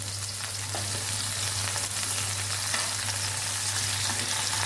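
Tomatoes cooking in a pan for tomato chutney, a steady, even sizzle and crackle of frying that holds at a constant level throughout with a faint low hum beneath.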